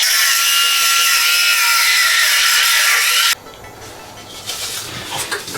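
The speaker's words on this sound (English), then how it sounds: "I've cut through the rear shock." A power saw cuts loudly and steadily through the rear shock of a modified MXR1500 electric funbike boosted to 5000 watts, then stops abruptly, leaving quieter workshop clatter and rustling.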